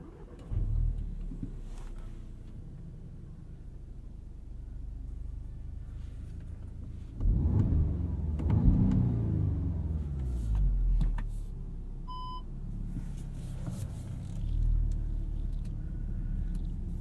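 A 2016 Audi S3 sedan driving on the road, a low steady engine rumble heard from inside, swelling into a louder surge of acceleration midway, then settling back to a cruising drone.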